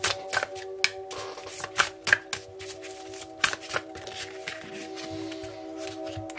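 Tarot cards being shuffled by hand, with a run of crisp riffling flicks and soft card slaps, close up, against a quiet steady background hum.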